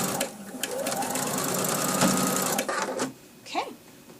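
A sewing machine stitches a seam on a Winding Ways quilt block, running steadily and loudly for about three seconds, then stopping, followed by a brief faint voice.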